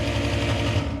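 A newly installed Panasonic bathroom exhaust fan runs with a steady, even hum and a low droning rumble, continuous and unbroken throughout with no voices.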